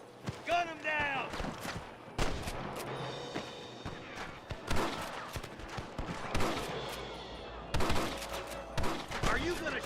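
Gunfire rings out during a fight with rustlers in the video game Red Dead Redemption, with scattered sharp shots and short volleys separated by brief lulls, and voices yelling between the bangs.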